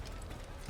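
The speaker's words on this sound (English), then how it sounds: "Horse mount." Horse hooves clip-clop quickly in the Assassin's Creed video game, a very brief, faint run of galloping steps under low game ambience.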